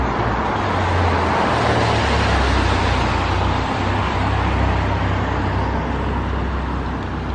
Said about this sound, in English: Car just went behind me.